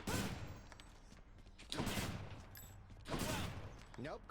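A gun fires in the video game Hades in three loud, close bursts of rapid shots, each about a second long, over a continuous game soundtrack.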